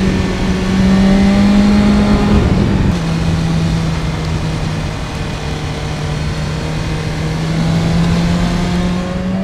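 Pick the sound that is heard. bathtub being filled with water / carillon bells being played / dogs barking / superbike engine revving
superbike engine revving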